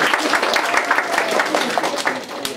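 Audience applause during a puppet theatre show, steady dense clapping from a crowd filling the whole moment, fairly loud and continuous without a break.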